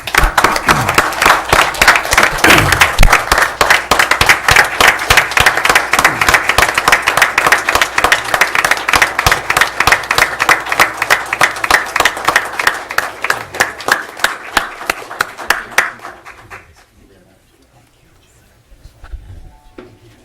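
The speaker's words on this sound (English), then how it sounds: "Round of applause." Loud, sustained round of applause from the audience at a city council meeting, dense clapping for about fifteen seconds before thinning out and fading to near silence with faint scattered sounds.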